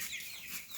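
A baby chick in a cluttered garage gives a brief, faint run of soft clucking peeps, alone and close by.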